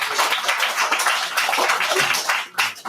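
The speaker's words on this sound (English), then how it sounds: "Give a big round of applause to yourselves" Graduates and guests at a graduation ceremony break into sustained applause, a dense, continuous patter of many hands clapping, fairly loud and close, with no talking over it.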